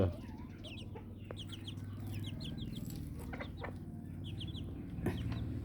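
Chickens cluck repeatedly in short bursts over a steady low background hum, nearby and moderately loud, with a few sharper calls scattered throughout.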